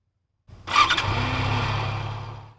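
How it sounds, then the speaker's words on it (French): A motorcycle engine is started after a brief silence: a short starter whir, then it catches and settles into a steady, fairly close idle that fades slightly toward the end. "Point numéro 1, la mise en marche du moteur."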